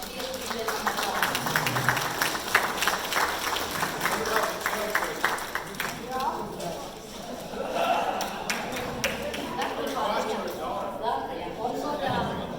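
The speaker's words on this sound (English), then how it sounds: "please give them a applause" Scattered applause at a 2022 San Francisco police, firefighters and sheriffs' awards night, with clapping strongest for the first several seconds and then thinning, mixed with talk and room chatter throughout.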